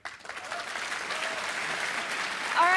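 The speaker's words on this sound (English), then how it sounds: "let's have another round of applause for John, Carmack, Kevin, Cloud, Tim Willis, and Todd Hollinshead" Crowd applauding at QuakeCon 2011, a dense, steady roar of clapping that swells slightly toward the end, with a faint cheer or whistle near the close.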